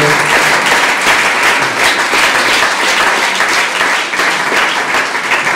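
Sustained, loud applause from a church congregation acclaiming the Lord, dense steady clapping with no pauses throughout.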